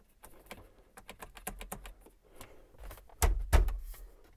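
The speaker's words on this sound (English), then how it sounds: "I hear the relay clicking." Clicking from a relay in a car's wiring for a 2-step, nitrous, line lock and Stabilitrak disabler setup: a quick series of sharp, close clicks in an irregular rhythm, with two louder snaps near the end and no talking.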